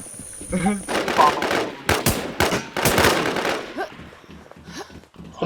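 Video-game gunfire, several rapid bursts of sharp shots close up over a few seconds, mixed with a voice talking over the action.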